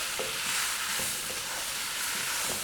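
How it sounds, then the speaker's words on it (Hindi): Vegetables including carrot and potato are fried with spices in a pan over medium flame, giving a loud, steady, hissing sizzle with faint periodic stirring thuds. "स्पाइसेस को हमने अच्छी तरह से भून लेना है वेजिटेबल्स के साथ"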